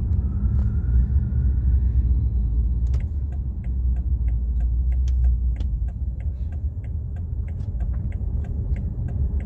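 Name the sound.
sports car engine exhaust rumble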